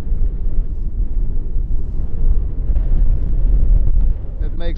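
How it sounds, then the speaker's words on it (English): Strong, steady wind buffets an outdoor microphone at Schiphol Airport beside runway 18R during crosswind landings, a loud continuous low roar with rising gusts that dominates throughout. "You can hear the wind blow"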